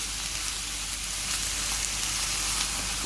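Food sizzles and fries steadily in a pan as it is stirred with a crumbled Maggi cube, a dense, continuous hiss with faint scraping, close and fairly loud, with no voices.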